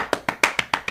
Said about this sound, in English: we are happy and we applaud.